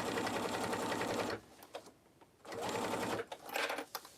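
A sewing machine stitches a curved seam on a tote bag, running in two loud steady bursts separated by a short quiet pause.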